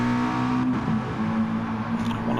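Volkswagen Group 4 race car in a racing video game at Bathurst, engine droning steadily at high revs as it accelerates down a straight, a continuous near, loud whine with slight pitch shifts and no talk.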